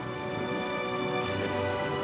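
Steady rain falls during a winter storm on a Breton island, a close, even hiss of drops with no breaks.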